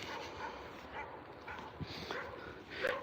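Several dogs whimper and give short yips on a walk in Edinburgh, thin high cries scattered over a steady outdoor background, with a louder yelp near the end.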